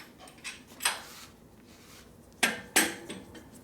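Several sharp taps from a plastic hammer fitting a bearing on a 1972 Harley-Davidson Ironhead Sportster 1000cc, irregularly spaced, with two close strikes near the end and quiet gaps between.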